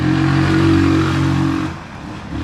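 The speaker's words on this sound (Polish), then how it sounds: "słyszycie jak e, naprawdę dosyć głośno ten silnik zaczyna pracować, troszeczkę wyje" A Bashan 200 quad bike engine revs loudly with a whining tone, holding steady before easing off and picking up again, close by, on level ground.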